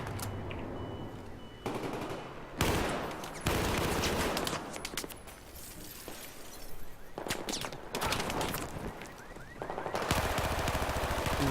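Gunfire in Battlefield 4, repeated machine-gun bursts and single shots in uneven clusters, loud and near, with a steady background of battle noise and no talk.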